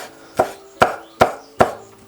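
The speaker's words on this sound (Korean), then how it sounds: "파를 잘라 주시면 됩니다." A knife chops green onion on a cutting board for nasi goreng, four crisp, evenly spaced strokes about 0.4 seconds apart, close and clear in a quiet room.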